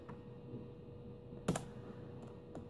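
A few quiet keystrokes sound on the keyboard of a Compaq LTE 5280 laptop, scattered over a steady low background hum.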